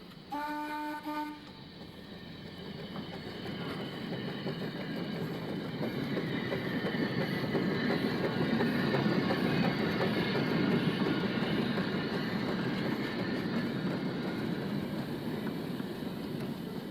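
Darjeeling Himalayan Railway B-class steam tank locomotive train running: brief whistle toots at the start, then a steady rolling rumble with rail clatter that swells and holds, heard alone without talk.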